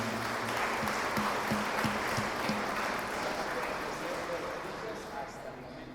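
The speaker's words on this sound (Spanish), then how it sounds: "Vamos a darles un aplauso a estos jóvenes en el día de su matrimonio." Wedding guests in a church clap for a newly married couple, a steady moderate patter of hands with a few low knocks early on, gradually thinning toward the end.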